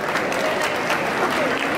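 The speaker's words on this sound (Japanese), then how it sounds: "皆様拍手ありがとうございます" At the final selection of a regional sunshine lady pageant in Miyazaki, the audience claps in a steady, fairly loud patter that fills the whole moment.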